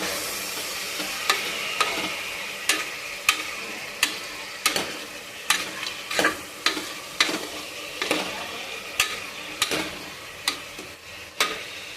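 Ingredients for chicken curry sizzling in a pan under steady frying hiss, with a spoon scraping and knocking against the pan in regular sharp strokes, close and clear, with no talking.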